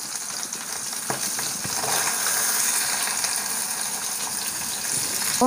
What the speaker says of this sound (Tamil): இப்போது ஒரு சைடு வெந்துருச்சு, திருப்பி போட்டுக்கலாம். இந்த பக்கமும் கொஞ்ச நேரம் வேகட்டும்.